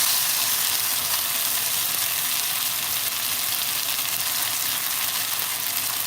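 Deveined shrimp fry in a hot pan with a steady, even sizzle that holds at a constant level throughout, close up and with no talking.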